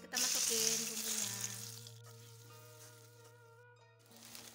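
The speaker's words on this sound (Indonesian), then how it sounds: "Minyaknya udah panas, kita masukin bumbunya." Spice paste with curly chili dropped into hot oil, giving a loud hiss of frying that fades to a steady sizzle, with a tonal hum underneath.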